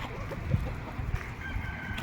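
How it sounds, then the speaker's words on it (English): Farmyard chickens, a flock of about seventy egg-laying hens, cluck steadily at moderate distance, with a higher drawn-out call rising briefly near the end and no voices. "I'd say, about 70 chickens. Quite a few of them are retired now, but they're our egg layers."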